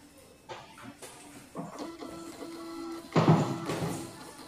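A Hoin printer runs a job sent over Wi-Fi, with short whirring feed bursts and a steady motor hum that grows louder near the end as the paper comes out. The sound is close and carries no voices.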